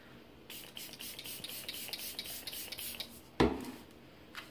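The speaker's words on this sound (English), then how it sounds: "so let's spray it real quick" Tarte setting spray misted from a pump bottle in a makeup wear test, a quick hissing burst near the end after a stretch of faint rubbing and handling noise, close and brief.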